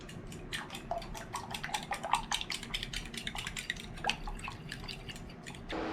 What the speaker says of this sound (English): And then just stir it.